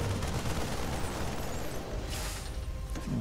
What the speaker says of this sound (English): Raze's Marines were shooting his own third orbital command